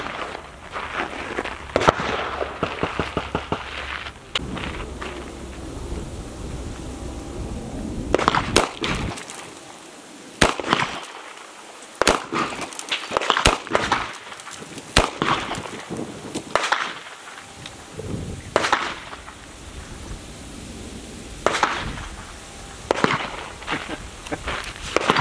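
Taurus M605 .357 Magnum revolver fired double action at close range, a series of sharp, loud shots spaced irregularly across the stretch, some in quick pairs, with bursts of outdoor handling noise between them.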